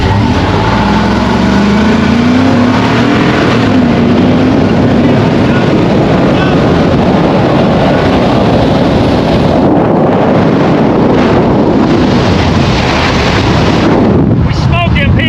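Two pickups, a 2018 Chevrolet Silverado and a 2011 Ford Super Duty, accelerate hard in a drag race, their engines roaring loudly and continuously under heavy wind buffeting on the microphone.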